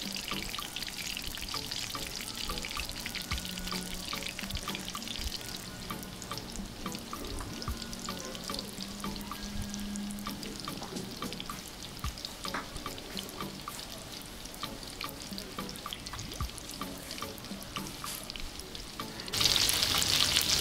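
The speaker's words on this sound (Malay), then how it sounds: "Bila kita goreng ni, tahu dan tempe ni dia tak mudah hancur ya." Cubes of tofu and tempeh fry in hot oil, giving a steady close sizzle and crackle that runs throughout, with a few faint stirring clinks and a brighter burst of sizzling near the end.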